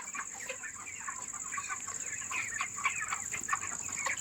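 Chickens clucking in a poultry shed for about 2,000 birds, a soft, busy scatter of overlapping clucks set against a steady high-pitched whine, with no talk.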